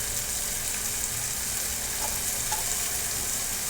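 Masala sizzles and fries steadily in hot oil with stuffed brinjal, a dense, continuous crackle held close with no talking.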